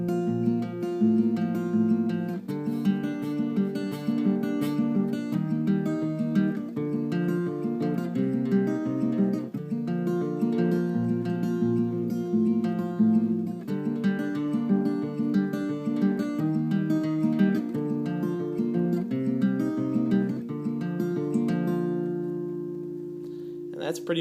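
Guitar fingerpicked in a song's pattern, a continuous flowing arpeggio of plucked chords sustained for over twenty seconds, close and clear with no voice over it.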